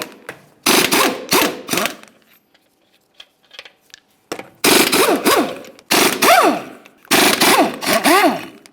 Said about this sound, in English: continue on to removing all 5 of your 22mm lug nuts and then the wheel